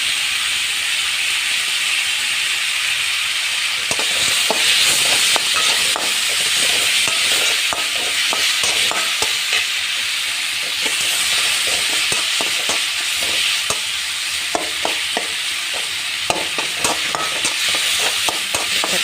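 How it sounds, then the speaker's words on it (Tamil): Tomatoes fry in a pan for a gravy, giving a loud continuous sizzle and hiss broken by frequent scraping and clattering strokes of stirring, close up with no speech. "தக்காளி நல்லா வதங்கிட்டுருக்கு."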